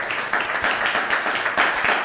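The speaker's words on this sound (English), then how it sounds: "So please, can we give her a round of applause?" A panel audience breaks into brief applause, a short burst of mixed clapping at moderate level with a few sharper claps standing out.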